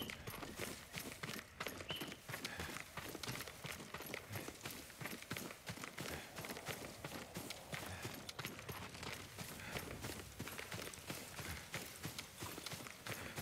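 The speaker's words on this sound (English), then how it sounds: "Yuriko's horse. She can't be far." Horse hooves clip-clop steadily from the video game Ghost of Tsushima, a dense, continuous run of rapid hoofbeats mixed with outdoor ambience at moderate loudness, with no voices.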